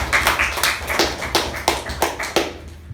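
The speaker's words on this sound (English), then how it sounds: "A huge round of applause for the President" A small meeting audience claps for a speaker, a few pairs of hands giving crisp, fairly sparse claps in loose rhythm for a few seconds nearby.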